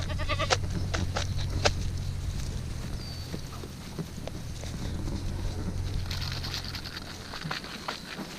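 A herd of goats on a farm, moved out to a far pasture during rotational grazing, with scattered bleats at moderate distance over steady outdoor background noise and low rumble.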